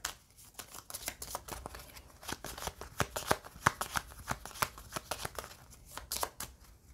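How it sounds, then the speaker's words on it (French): Card decks are shuffled by hand during a card game, with a dense, quiet patter of riffling clicks and flicks that continues steadily, close and soft, with no talking. "Je passe, donc je mélange mes paquets."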